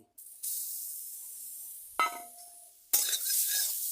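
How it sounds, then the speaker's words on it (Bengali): Grated coconut fries in a hot wok, giving a soft steady sizzle broken by two bursts of louder scraping and stirring, close and alone without talk. "এখন আমি গরম কড়াইতে নারকেলটা ভেজে নিচ্ছি"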